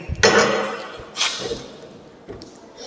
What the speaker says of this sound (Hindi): इस तरह पाइप रिंच का प्रयोग पाइप को खोलने और कसने में होता है।